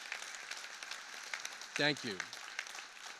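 An audience at the 2024 New Haven mayoral inauguration applauds for the Inauguration Committee, a steady wash of clapping heard under a man's brief spoken words.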